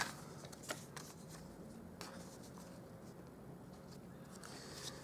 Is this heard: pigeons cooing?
no